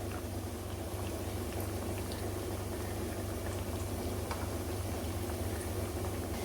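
Andrasay sweets fry in oil over a medium gas flame, giving a steady, dense bubbling hiss that holds unbroken and fairly loud throughout.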